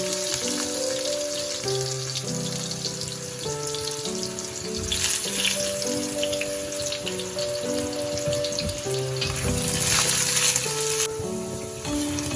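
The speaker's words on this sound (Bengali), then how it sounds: "আলুটা ভাজা হয়ে গেছে।" Long-cut potato pieces fry in a pan with a continuous bright sizzle, swelling louder twice, while tonal background music plays underneath.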